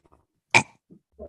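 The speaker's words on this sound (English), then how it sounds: "She taught herself how to force herself to burp." A single forced burp, short and harsh, loud and close, surrounded by faint breath and murmured voice sounds.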